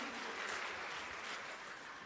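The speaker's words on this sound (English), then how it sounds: "Let's give a round of applause, please." A crowd applauds steadily, a dense wash of clapping that stays even and fairly distant throughout.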